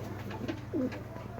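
Teddy pigeons giving a short, soft coo over a low background hum, heard close by.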